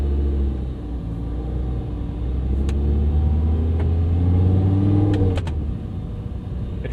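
A 2011 Audi R8 V10 Spyder with gated manual shifter idles and revs with its exhaust valve open, a deep steady rumble swelling and settling, close and loud with no speech.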